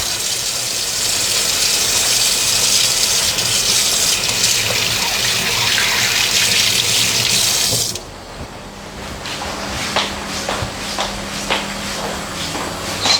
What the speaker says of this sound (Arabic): اغسل ايدي بس